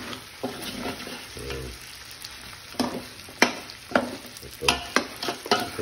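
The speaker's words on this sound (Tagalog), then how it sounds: "Yung naglalaro na mantika niya sa tawag dito. Sa sarili niyang karne." Pork adobo fries and sizzles in its own rendered fat, a soft crackling bed broken by repeated close scraping stirs that grow busier toward the end.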